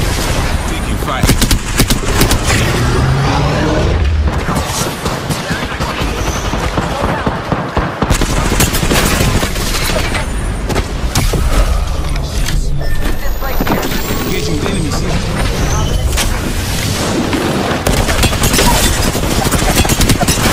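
Sustained gunfire from an Apex Legends match, with dense automatic bursts, single shots and impacts crackling loudly and nearly nonstop over about twenty seconds, with voices and game callouts mixed in.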